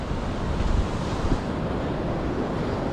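Surf and wind on Kuta and Legian beach in Bali make a steady, full roar of breaking waves mixed with gusty wind buffeting the microphone, continuous and fairly loud.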